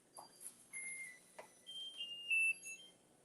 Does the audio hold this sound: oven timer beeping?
yes